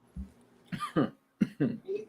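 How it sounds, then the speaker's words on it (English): Several short, harsh human coughs in quick bursts, close by, with a brief pause between clusters; no talking. "Excuse my coughing."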